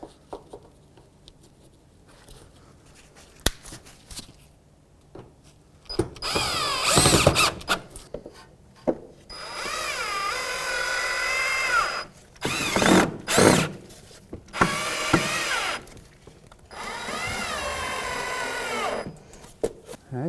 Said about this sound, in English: now we can put our 4 screws back in our mud flap